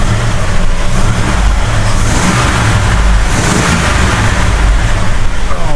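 A 1969 Road Runner's 440 V8, freshly started after more than twenty years dormant, revs loudly and close in repeated throttle blips over a rough, lumpy idle.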